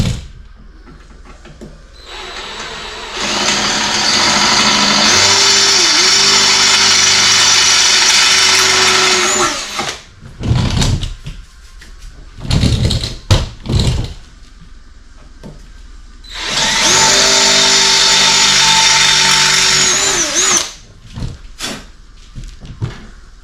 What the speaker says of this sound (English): I'm going to proceed to drill these larger ones.